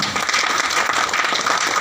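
Seminar audience claps together in a dense burst of applause, loud and even for about two seconds, with no speech over it.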